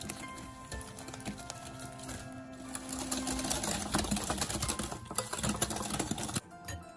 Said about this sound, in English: Then add an egg and whisk again.